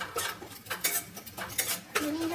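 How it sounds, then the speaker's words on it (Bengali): Metal utensil scraping and clinking against a wok as spices are stirred for vegetarian khichuri, a quick irregular run of close, bright scrapes and knocks with no talk. "নাড়াচাড়া করছি"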